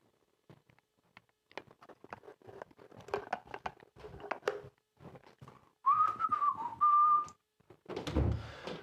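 A person whistles a short tune indoors in a living room, clear and close, following scattered handling clatter and rustling.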